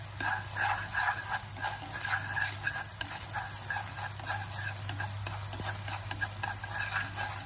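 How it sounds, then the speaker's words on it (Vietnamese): Fried sausages are stirred into a thick tamarind sauce in a pan, with continuous close sizzling and repeated scraping stir strokes, unaccompanied by talk. "Và các bạn sẽ đảo đều cho nó thấm gia vị cho nó xúc xích của mình đó, thấm đều vô."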